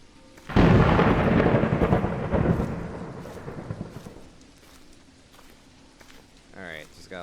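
A loud, close crack of thunder from a lightning strike in a horror video game bursts out, then rolls and rumbles for several seconds before fading into faint rain-like hiss.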